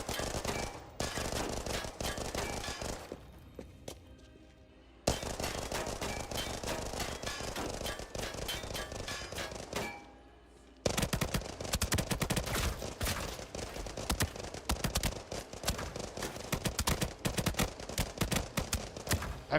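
Automatic gunfire from Arena Breakout Infinite, with a full-auto A94 rifle among the weapons: dense, loud bursts of rapid shots in three long strings separated by brief gaps, with no speech.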